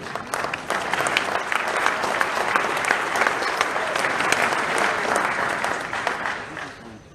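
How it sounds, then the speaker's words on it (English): An audience at a Pontiac car club awards banquet breaks into sustained applause with scattered hoots and cheers, the clapping dense and lively throughout before tapering off at the end. "I know we're gonna hear some hoots on this one"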